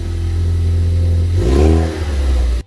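A Ford Focus ST Mk3 with its stock resonator idles with a steady low drone, then revs up briefly in a rising, throaty exhaust swell that falls back before cutting off, loud and close.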